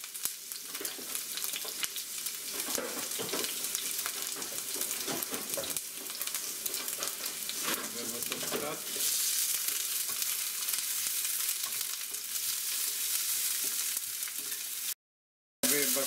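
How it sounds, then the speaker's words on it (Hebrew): Chopped onion frying in hot oil in a pan while a sauce for meat patties with rice is made, a steady, close sizzle and crackle that grows louder partway through, with occasional stirring scrapes and no talking. "אני מוסיף אליו את הבצל שקצצתי ואני מטגן אותו עד הזרה"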